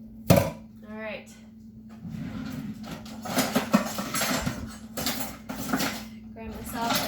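Dishes and cutlery clink and clatter in a home kitchen while beef barley soup is being made, with a sharp clank near the start and scattered rattling throughout, under ongoing talk.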